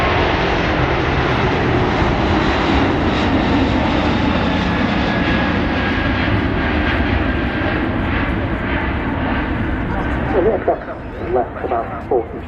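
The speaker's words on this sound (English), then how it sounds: "we're going to be able to see this aircraft for some time once it's actually made its departure" Jet airliner departing Manchester Airport, a loud, sustained engine roar that slowly fades over several seconds, with brief faint talk near the end.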